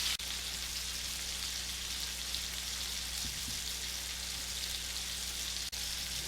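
Stuffed venison backstrap filled with brie and caramelized onion sears in a cast iron pan, a steady close hiss of sizzling fat running unbroken and fairly loud throughout, with no talking.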